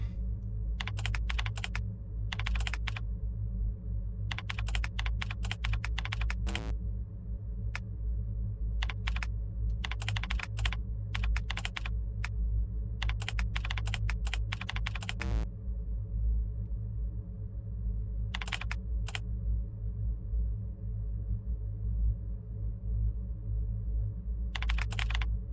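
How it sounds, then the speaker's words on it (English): Keys clatter on a computer keyboard in irregular bursts of quick typing separated by short pauses, close and crisp over a steady low electronic hum, with no one speaking. "Thrilling typing action."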